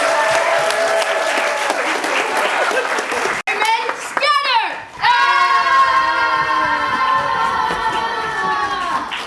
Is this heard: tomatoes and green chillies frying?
no